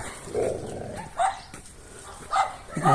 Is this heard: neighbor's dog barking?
yes